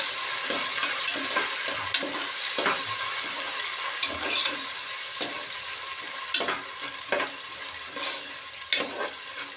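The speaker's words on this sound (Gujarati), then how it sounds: "આપણે આ લીલા વટોણા અડધો વાટકો લીધા છે નાખી દઈશું મિક્સ કરી લઈશું" Half a bowl of green peas is tipped into oil in a pan for gavar dhokla and stirred, giving a soft continuous sizzle with scattered scraping and clinking spoon strokes.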